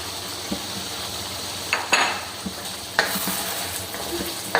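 Chicken gizzard and neck fry with yogurt in a village kitchen. A steady sizzle runs throughout, with several metallic clinks and scrapes as a spoon stirs the pan.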